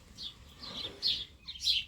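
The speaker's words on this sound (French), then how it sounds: "On entend beaucoup le chant des oiseaux parce qu'on se trouve juste à côté de mon laurier cerise" Sparrows chirp from inside a garden cherry laurel, a series of bright, close tweets coming in quick bursts over faint background hiss.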